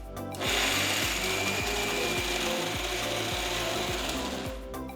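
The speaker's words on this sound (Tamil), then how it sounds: "இப்போ நான் மிக்ஸி ஜாருக்கு மாற்றிட்டேன். முதல்ல நம்ம தண்ணி ஊற்றாமல் அரைச்சிக்கலாம்" A mixer grinder whirs loudly and steadily grinding capsicum chutney without water, its motor running with a rough grinding texture and rhythmic knocking for several seconds before winding down.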